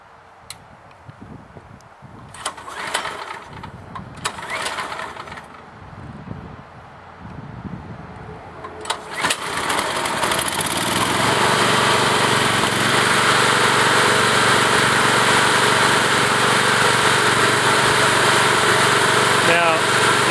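After some handling noises and a few pulls, a small wood-gas-fuelled generator engine catches and settles into a loud, steady drone that continues to the end.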